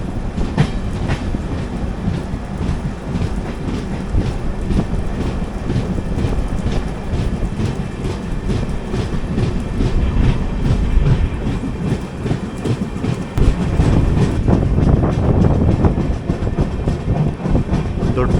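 A Hubballi–Yesvantpur–Belagavi special train runs past with a steady loud rumble and rhythmic clickety-clack of wheels over rail joints, wind buffeting the microphone, swelling louder near the end.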